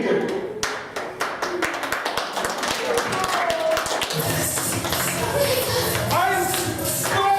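Children clap at a kids camp event, a burst of sharp hand taps that grows into dense, steady applause with some children's voices and music-like tones mixed underneath.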